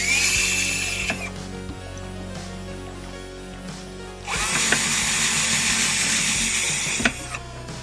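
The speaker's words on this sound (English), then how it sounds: "All right, so now we have the holes drilled." Power drill boring holes through a layered Lexus GX460 dashboard panel for a dash mount, two loud close whirring bursts separated by a quieter stretch of faint clicks and handling noise.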